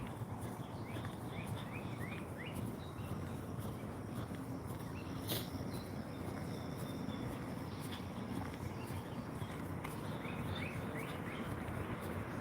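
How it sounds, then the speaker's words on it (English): Outdoors on a hot day, air conditioners hum steadily and faintly while birds chirp in short, repeated calls at a distance, with a low broadband drone throughout and no talking. "all I can hear is air conditioners"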